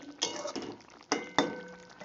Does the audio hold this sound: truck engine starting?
no